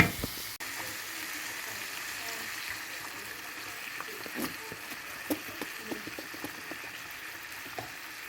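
Ground beef sauce simmering and sizzling in a pan as tomatoes and harissa paste go in, a steady close frying hiss with scattered small pops and splutters.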